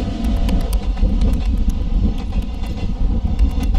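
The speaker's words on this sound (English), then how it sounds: "We're on a train." A train rolling along in a video game: a loud, steady low rumble with a rapid run of faint clicking beats over it, continuous and close, with no talking.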